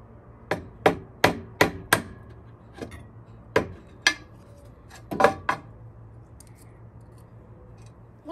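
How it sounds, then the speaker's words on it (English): Sharp wooden taps from a 1/8 inch chisel being worked to pop out a piece of wood, a quick burst of five close knocks followed by a few scattered, slightly softer strikes, with no voices. "So I'm just going to use a 1/8 inch chisel real quick, just to pop that out."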